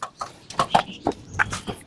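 Tiger breed chickens clucking close by in a short run of sharp, separate calls spaced through a couple of seconds, with faint background noise between them.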